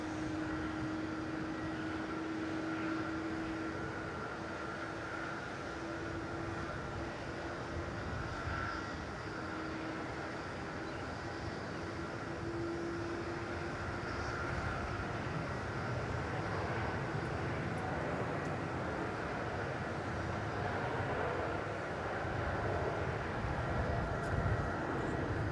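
An airliner departing Melbourne Airport for Los Angeles, heard from a distance as a sustained engine roar with a faint steady whine, gradually swelling over the background.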